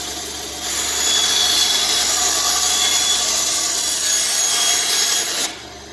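Band saw with a steel blade cutting wood during a church restoration: a steady, close rasping whine that starts abruptly, runs for about five seconds and then cuts off.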